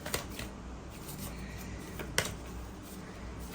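Tarot cards shuffled and drawn from a deck, a close soft rubbing shuffle with a couple of sharp flicks, fairly faint.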